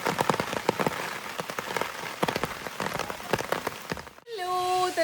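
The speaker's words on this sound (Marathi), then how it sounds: "आता बघा एकदम जबरदस्त पाऊस पडायला लागला आहे" Heavy rain pours steadily onto the grounds of a Goa resort, a loud, dense patter that runs for several seconds before a different, tonal sound cuts in near the end.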